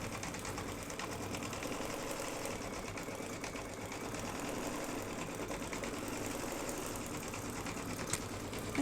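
A sewing machine stitching lace work for freestanding Christmas tree tealight covers runs continuously with a steady, fast mechanical whir and tapping, fairly faint and without talk.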